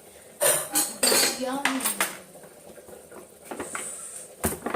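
Metal pots, pans and utensils clatter and clink up close as cookware is rummaged through in a home kitchen while a kadai is sought, with several bursts of knocking and scraping.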